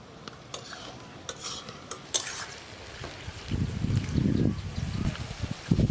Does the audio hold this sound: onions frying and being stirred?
yes